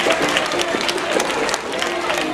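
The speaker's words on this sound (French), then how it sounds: "Applaudissez pour vous-même." Children applaud themselves at a kindergarten gathering after mass, a dense, continuous patter of small hands clapping close by, with voices mixed in.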